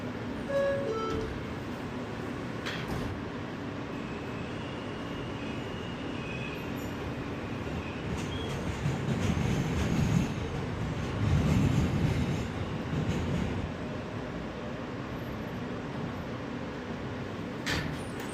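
A New York City subway local train rumbles steadily along the tracks, with a dense roar that swells louder midway before settling back, no voices heard.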